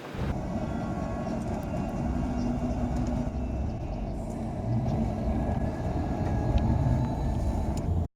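Steady rumbling of a train in motion, a continuous low roar with some rattling, loud and close throughout.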